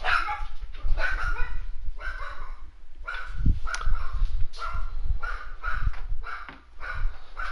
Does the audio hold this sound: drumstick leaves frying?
no